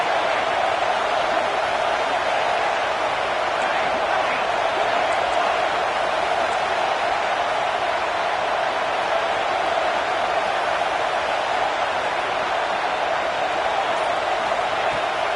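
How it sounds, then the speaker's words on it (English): Steady roar of a large NCAA football stadium crowd, dense and continuous throughout with no breaks, a broad wash of many voices at a distance. "This crowd bringing the energy and noise early."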